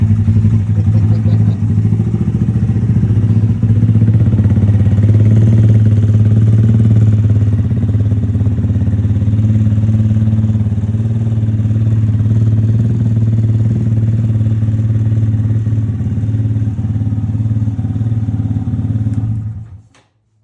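A Honda Grom motorcycle engine runs after a cold start with a steady, loud, low idle and a slight clatter, close by, before cutting off abruptly at the end.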